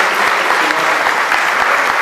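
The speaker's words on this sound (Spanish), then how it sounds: "Vamos a darle un aplauso a Jesús, porque Él es el único que puede hacernos el milagro." A church congregation claps loudly and continuously during a Sunday homily, the close, dense patter of many hands running unbroken from start to end.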